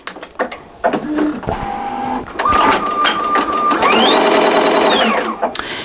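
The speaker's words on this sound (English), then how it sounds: "I am going to go ahead and hit start so that we can start stitching" A home embroidery machine stitches a wristlet key fob with a loud, close mechanical whir, stepping through changing motor pitches in bursts and then settling into a steady, rapid stitching rhythm.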